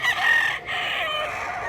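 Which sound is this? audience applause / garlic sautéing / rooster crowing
rooster crowing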